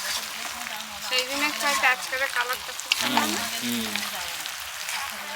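Chicken pieces fry dark in a pan for kosha, a soft steady sizzle running underneath while someone talks over it.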